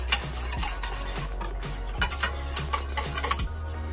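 A utensil scrapes and clinks against a metal pot in a steady stirring rhythm as spices are mixed in before bulgur is added, with a low hum running underneath.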